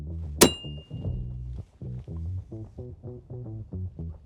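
A Japanese grenade launcher, set at a 45-degree angle, fires a shell with a single sharp, loud thunk, and voices talk right after it.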